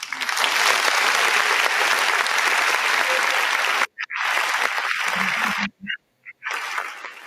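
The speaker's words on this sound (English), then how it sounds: "let's give him a round of applause as he make his way to the stage." Audience applause for a pastor walking to the stage, loud sustained clapping from a crowd that breaks off in brief gaps near the end.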